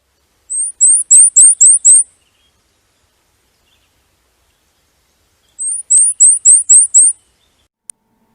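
A Cape May warbler sings two short, high, thin phrases a few seconds apart, each a quick run of about six sharp repeated notes, clear and alone against silence.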